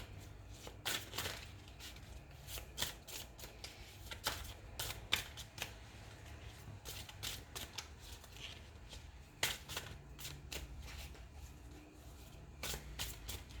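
Tarot cards are shuffled over and over, giving soft riffling flutters and light slaps in an irregular rhythm, quiet and close, with no talking.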